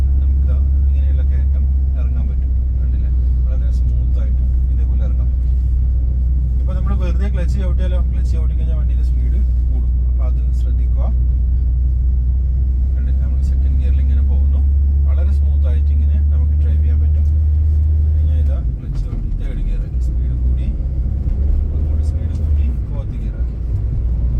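A car engine braking in second gear, with a steady loud low drone and road rumble throughout that drops in pitch near the end; a voice talks over it.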